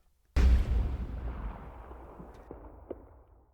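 A single loud gunshot sound effect cracks sharply and booms, then its echo slowly decays over several seconds, with a couple of faint clicks in the tail.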